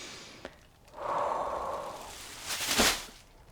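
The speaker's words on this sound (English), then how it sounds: "Take a big, deep breath" A single slow, deep breath: a long audible inhale followed by a sharper, breathy exhale, close and quiet with no talking.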